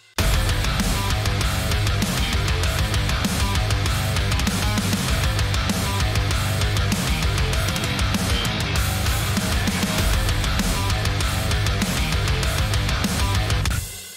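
Heavily distorted, scooped high-gain metal guitar from the JST ToneForge Disruptor plugin chugs through a sustained riff for about fourteen seconds, loud, dense and unbroken, with no talking.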